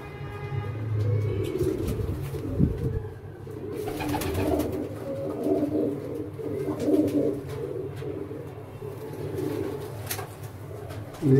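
Badshah pigeons coo repeatedly, with low throaty rolling calls close by and continuing throughout, and faint background noise around them.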